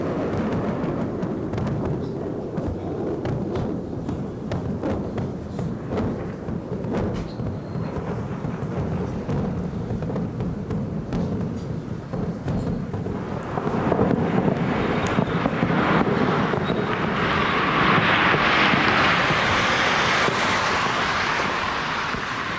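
Bombardment explosions during the Iraq War's Shock and Awe campaign roll as a distant, continuous low rumble with heavy booming swells, growing louder and harsher toward the end.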